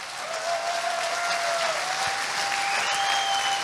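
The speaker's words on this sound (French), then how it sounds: "Je crois qu'on peut l'applaudir." Sustained applause from a sizable crowd at a Vendée Globe sailing race press conference, a dense wash of clapping with faint whistles cutting through, steady throughout.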